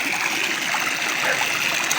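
River water gushes steadily through a hose, a continuous bright splashing flow heard close and alone.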